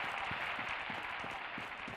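A crowd claps in a Fallout 4 game scene, a steady, moderately distant wash of applause with a few more distinct hand claps standing out, and no talking.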